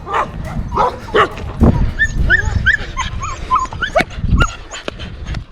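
A dog barks and yips repeatedly at close range in Morteros, Argentina, with sharp high whimpering yelps mixed among the barks and no talking.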